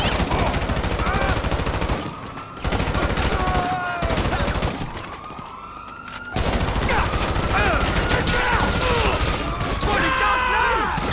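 Rapid bursts of weapon gunfire in GTA Online, a dense near continuous fusillade with short lulls, loud and close, mixed with other game sounds.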